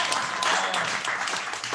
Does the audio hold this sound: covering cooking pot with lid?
no